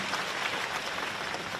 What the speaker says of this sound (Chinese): 啊，鼓掌。